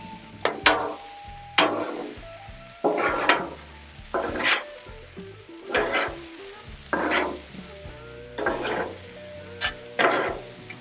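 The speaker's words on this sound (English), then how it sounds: "we're going to do the same thing now with our bacon" Bacon frying with corn on a Blackstone griddle, loud close sizzling punctuated by repeated spatula scrapes and stirring strokes in an uneven rhythm, no talking.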